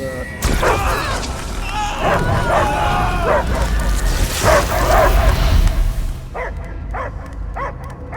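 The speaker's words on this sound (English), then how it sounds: "I hear only barking" A possessed dog in the Guardians of the Galaxy video game barks and whimpers loudly over a booming game soundscape, with character voices talking; the scene thins to a few short yelps near the end.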